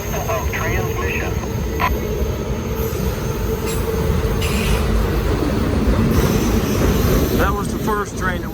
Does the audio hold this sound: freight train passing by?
yes